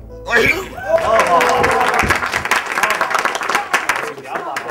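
An audience claps on a drama set, applause building quickly and holding steady before thinning out, with people talking over and after it.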